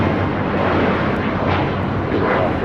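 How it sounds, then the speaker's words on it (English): An Alaska Airlines Boeing 737 Max 9 takes off from LAX bound for Seattle, a loud, dense, unbroken jet engine roar filling the whole moment close at hand. "This Alaska Max 9 is taking off to Seattle, flight 1083"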